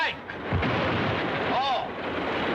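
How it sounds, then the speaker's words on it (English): A dynamite explosion sets off a deep rumbling boom that rolls on and stays loud for a couple of seconds in an old film scene, with a brief whistling tone partway through. "Dynamite."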